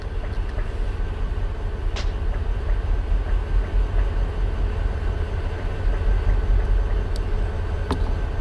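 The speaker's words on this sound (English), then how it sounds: "So that's the first of our grain trains." A long grain train runs in the Run8 train simulator near Barstow, giving a steady low rumble of rolling wagons with a constant hum and a few faint squeals and clicks.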